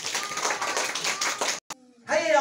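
Students applaud a young pupil in a classroom lesson on writing letters, with brisk steady clapping for about a second and a half before it cuts off and a voice speaks.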